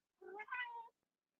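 A house cat gives a single clear meow of under a second, close and loud against an otherwise quiet room.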